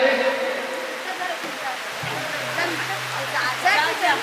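Heavy rain pours down over an outdoor women's Home Minister gathering, a dense, steady hiss filling the whole stretch with faint voices murmuring underneath.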